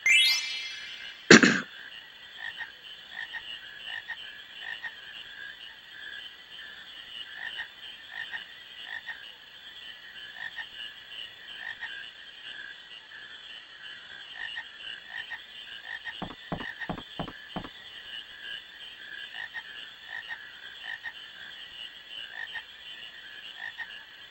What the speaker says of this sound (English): When catching the frog for Quina, I find it better to just wait for the frog to come to you